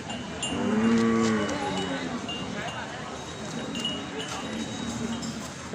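Water buffalo of a good breed from Ku Kaeo lowing, a low drawn-out moo that rises in the first second and then fades, with farm noise and people talking in the background.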